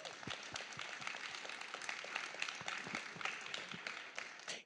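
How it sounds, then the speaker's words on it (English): An audience at a summit on nature restoration gives the panelists a round of applause: quiet, dense, steady clapping from many hands at some distance, continuing for several seconds and tailing off at the end. "So big round of applause for our incredible panelists."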